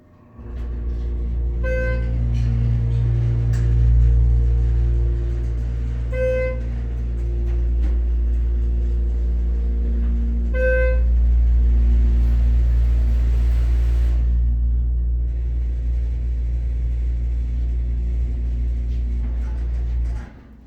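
An Esco/Schindler 330A hydraulic elevator at a King Soopers store rumbles loudly and continuously from close by, with a few sharp ringing chimes repeating at intervals over the heavy low drone.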